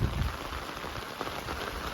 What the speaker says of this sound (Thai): เสียงฝนนะพี่น้องจ้า